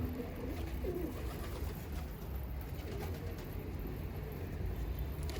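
Low, soft cooing of pigeons sits under a constant background hum, faint and repeated at a relaxed pace.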